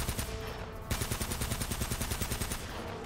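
Gunfire in the video game Uncharted: Drake's Fortune Remastered: a fast, regular stream of shots that breaks off briefly and then resumes in a steady automatic rhythm, fairly quiet overall.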